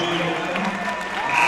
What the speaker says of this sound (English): And the crowd rising to their feet in appreciation